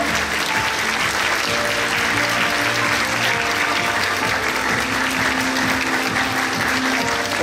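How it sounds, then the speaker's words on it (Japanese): Audience at a Tokyo International Film Festival talk event with director Takeshi Kitano applauds as guests take the stage, a steady, loud wash of many clapping hands lasting throughout, with faint voices underneath. "どうぞ皆さん拍手でお迎えください。"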